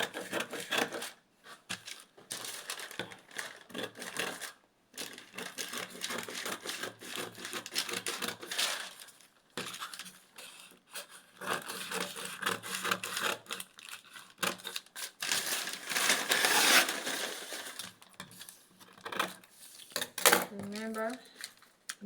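Scissors cut through paper for a short skirt pattern, a close, steady run of crisp snips and rustling paper with brief pauses, while a voice speaks intermittently.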